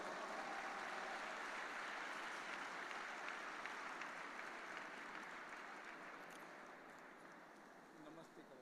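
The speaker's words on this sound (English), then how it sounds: "Let us welcome them with a big round of applause" An audience at a Naturopathy Day event in Pune claps to welcome Surya Namaskar performers, a dense, even wash of applause that holds steady and then slowly fades toward the end.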